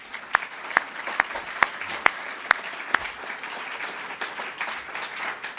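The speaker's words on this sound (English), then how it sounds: "And I just a big round of applause for Gary Smith here" Audience applause at a fellows presentation event, a steady wash of many hands clapping with a few sharp louder claps standing out early on, continuing evenly throughout with no talk over it.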